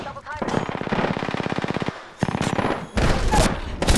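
Rapid automatic gunfire from weapons in the battle royale video game Apex Legends, a loud sustained burst of closely spaced shots followed by further bursts, with a voice speaking briefly over the shooting.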